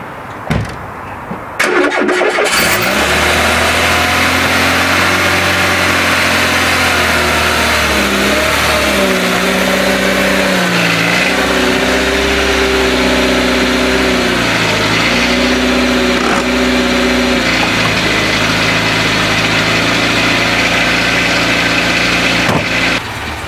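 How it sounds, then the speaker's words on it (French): Renault 11 engine cranks and starts without the choke, then runs close up with wavering idle, repeated dips and rises in revs, and settles into a steady loud idle. "comme tu l'entends, c'est son régime moteur sans starter"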